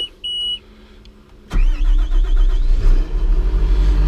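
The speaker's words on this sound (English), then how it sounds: "It's got a good strong starter." A loud John Deere 700K engine cranks and catches abruptly, then settles into a strong, steady rumbling idle close by, with a faint beep before it starts.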